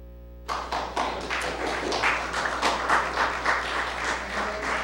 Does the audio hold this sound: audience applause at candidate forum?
yes